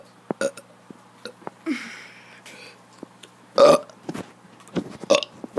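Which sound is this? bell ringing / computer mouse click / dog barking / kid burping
kid burping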